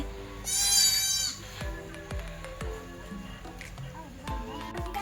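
A young goat kid gives one loud, close bleat while receiving an injection from a vet, followed by soft clicks and small bumps of handling as a voice talks quietly nearby.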